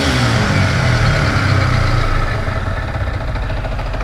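A Yamaha R15 motorcycle engine runs steadily up close, a loud continuous low rumble that eases slightly toward the end, with no talking over it.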